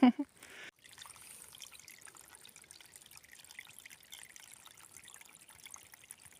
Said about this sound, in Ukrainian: Ось така гарна водичка, такий гарний струмочок, лісовий.